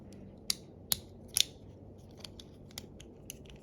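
Plastic Bakugan Geoforge Titan King toy parts are folded together, giving three sharp close snaps followed by several fainter clicks over a low hiss.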